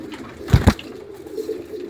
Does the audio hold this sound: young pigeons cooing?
yes